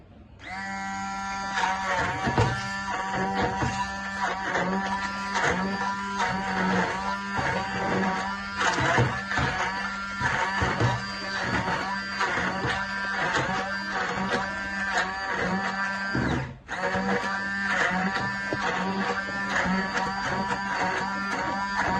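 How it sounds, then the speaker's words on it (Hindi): Electric blender whirring through a kulfi dessert mixture, a loud steady motor drone with a strong hum, pulsing in rapid repeated surges and briefly dipping once near the end, with no talking. "अब इसको हम ब्लेंड करने लगे"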